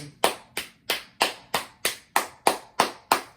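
Hands clapping alone, about ten crisp, close claps at an even, unhurried pace, each with a short decay before the next.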